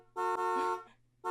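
Loud car horn honks, one long blast then a short silence and another beginning, with a low steady hum underneath.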